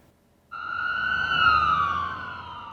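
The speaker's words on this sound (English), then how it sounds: "Sirens" An emergency vehicle siren on a busy city avenue starts abruptly and wails steadily with a slowly rising and falling pitch, loud and fairly close over low traffic rumble.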